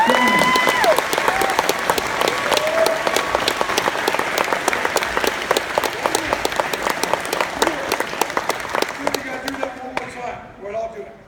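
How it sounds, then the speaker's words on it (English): Sustained applause from a large convention crowd, dense clapping with occasional loud claps, under an announcer's voice, fading out near the end. "keep your round of applause going for Mr. Sam J.Jones."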